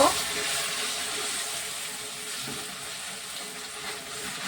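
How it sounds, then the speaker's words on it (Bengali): Water poured a little at a time into a simmering rohu fish curry, a steady broadband wash with faint sizzling, moderately close, no talk. "এবার অল্প একটু জল দেবো"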